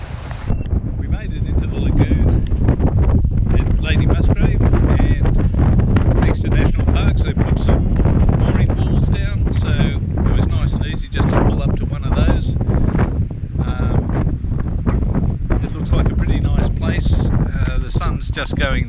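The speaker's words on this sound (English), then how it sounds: "A little bit windy today" Strong wind roars steadily around a sailing boat heading into shelter near Great Keppel Island, buffeting the microphone with loud, continuous gusts and rumble throughout.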